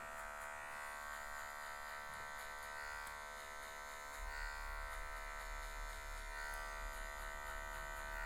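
Electric hair clippers cut short afro hair with a steady close buzzing hum that swells slightly midway as the blades work through the hair, with no talking.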